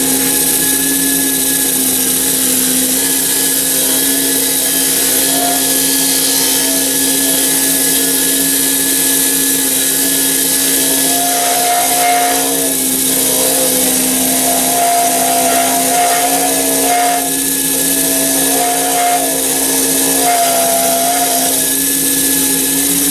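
Wood lathe spinning a pen blank while a flat chisel shapes it, a loud steady motor whine with scraping, chattering cuts coming and going in the middle.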